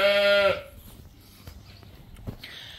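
A sheep or lamb in a field after lambing gives a loud, close bleat at the start, followed by quieter outdoor rustling, faint footsteps and a soft higher call near the end.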